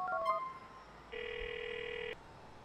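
A phone call rings in the crime game GTA IV with a single steady electronic tone lasting about a second. It follows brief menu beeps over a faint background.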